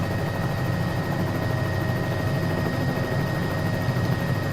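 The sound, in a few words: helicopter hover taxiing, Cowan 206 flight simulator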